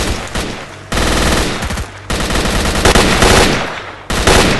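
A new rifle in STALKER: Shadow of Chernobyl fires in loud, close bursts of rapid automatic gunfire, four strings of shots separated by short pauses.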